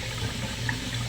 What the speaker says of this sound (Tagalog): Tapos ko na siyang hinugasan kanina at hinugasan ko rin ulit ngayon.